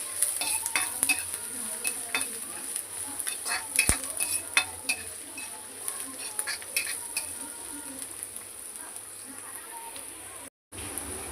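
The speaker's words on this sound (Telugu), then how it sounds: "ఇవి కొద్దిసేపు దూరగా వేయించుకుందాం." Chopped green chillies frying in a pan, with a soft continuous sizzle and frequent light scrapes and taps of a spoon stirring, fairly quiet throughout.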